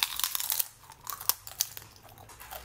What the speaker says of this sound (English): I wanna show you how crunchy they are.